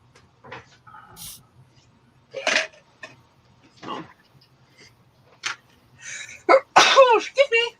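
A single sharp sneeze near the end, loud and close, following quieter scattered sounds and brief speech in an indoor room with a low background hum.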